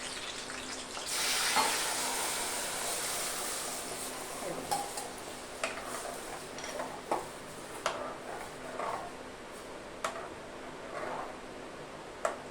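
Buttermilk blended with ground paste goes into a hot tempering for kadhi, making a broad hiss and sizzle that swells and then settles, with scattered light clinks of utensils later on.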